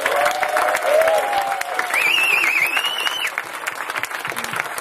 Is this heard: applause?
yes